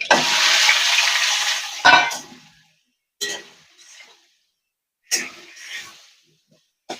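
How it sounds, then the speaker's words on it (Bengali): Potatoes frying in oil in a pan for an elephant-foot yam curry give off a loud, steady sizzle for about two seconds, then sharper bursts of spatter and stirring follow with quiet gaps between them. "ওই তেলে একটু আলুটাও ভাজা ভাজা করে নেবো"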